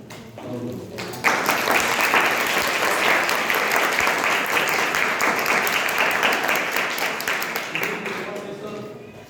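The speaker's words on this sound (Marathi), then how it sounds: "त्यांचे आभार मानू आणि टाळ्या वाजवून" A voice speaks briefly, then an audience bursts into loud, sustained applause that gradually fades before talking resumes.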